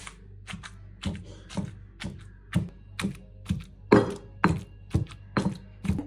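Onions and tomatoes are pounded for appalam sambal. Evenly spaced, sharp thuds repeat about twice a second, close and clear with no voices.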